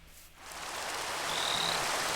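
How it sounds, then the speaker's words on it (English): Steady rain falling in Minecraft with the Quark mod, a continuous broadband hiss that swells in the first half second and then holds even and fairly loud, with a faint croak-like tone partway through. "this one activated because it is raining"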